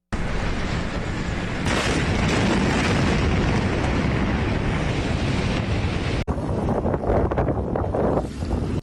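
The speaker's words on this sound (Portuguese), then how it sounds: "dá para ver pequenas explosões em meio a um incêndio num depósito." A warehouse fire at the Beirut port sends out a continuous roaring, wind-buffeted rumble. One sharp break is followed by a rougher, more turbulent stretch of blasts heard from a distance.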